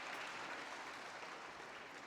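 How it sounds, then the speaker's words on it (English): Spectators at a men's singles badminton final at the Korea Open applaud steadily from all around the arena, a dense, even wash of clapping with no pauses, heard from a distance. "Applause from everywhere."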